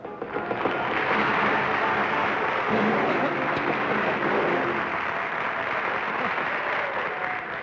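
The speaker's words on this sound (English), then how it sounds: "You are applauding out of extraordinary kindness." A 1956 television studio audience applauds at the opening of I've Got a Secret, a loud, steady burst of clapping that builds quickly and holds for several seconds without talk.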